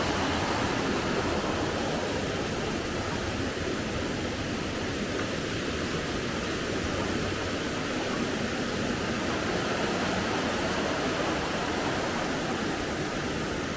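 Sapan waterfall in Nan, Thailand pours steadily in a broad, unbroken rush of flowing water, loud and close, with no voices over it.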